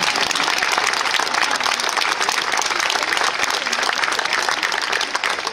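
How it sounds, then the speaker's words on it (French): Audience applauding the piano at a 50th-anniversary event for Les Demoiselles de Rochefort, dense, loud clapping sustained evenly from start to finish. "Pour applaudir le piano"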